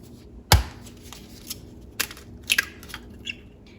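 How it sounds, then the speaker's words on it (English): Beef burger mixture with egg, lemon juice and dry spices being mixed by hand, a sharp squelching crunch followed by a few softer wet slaps and squishes, close and fairly quiet. "And now I will mix all the ingredients together."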